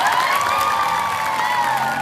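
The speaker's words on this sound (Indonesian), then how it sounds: "Tepuk tangan sekali lagi." Students at a school student-council election event applaud and cheer, a dense, steady crowd noise with whoops and shouts rising over clapping.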